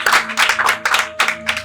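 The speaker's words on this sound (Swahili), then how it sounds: "Makofi tafadhali" Audience clapping in brief, uneven bursts, loud and close, mixed with a faint underlying hum.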